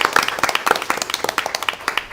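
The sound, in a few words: audience applauding at board meeting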